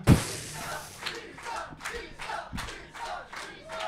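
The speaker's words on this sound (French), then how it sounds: "Vous entendez une foule avide de sang à l'extérieur qui clame." A bloodthirsty crowd chants outside in a colosseum as a live performance effect, a distant, reverberant roar of many voices rising in rhythmic surges after a sharp thud at the start.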